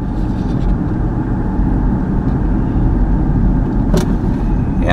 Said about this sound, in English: I'm just kind of driving through the town